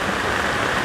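Heavy rain pours down in a brief, dense and steady wash of close hissing patter, with no voices.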